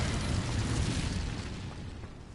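A fiery Incendio spell bursts out in Hogwarts Legacy, a loud, dense whooshing roar that stays strong, then slowly thins and fades.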